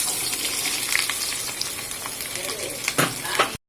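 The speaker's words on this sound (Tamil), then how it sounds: "சூடானதும் இதில் சின்ன வெங்காயம் வெள்ளைப்பூடு உரித்து வச்சுருக்கோம் போட்டுக்கலாம்." Peeled shallots and garlic fry in hot oil for a South Indian tomato chutney, a close, steady frying hiss with a few brief sputters, cut off abruptly at the end.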